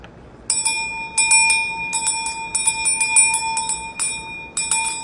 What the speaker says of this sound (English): we'll do a cleanse with my mother, Oshun's bell